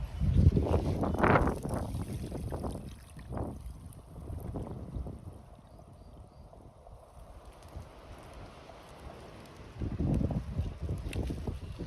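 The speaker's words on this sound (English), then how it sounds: "It's really windy today" Strong gusts of wind buffet the microphone in low rumbling bursts, easing into a calmer stretch before picking up again.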